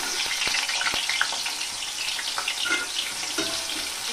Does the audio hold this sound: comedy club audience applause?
no